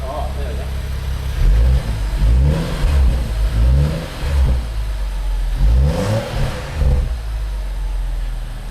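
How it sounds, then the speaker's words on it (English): A BMW M135i engine with a catless downpipe idles with a low rumble, then revs up in several short bursts as its exhaust valves open, with people talking over it. "The exhaust valves have opened."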